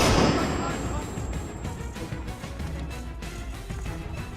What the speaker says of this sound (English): Throw the flashbang!